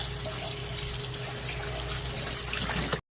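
Soybean leaves are washed under a running kitchen tap, making a steady close gush of water into a sink that stops abruptly near the end. Nobody speaks.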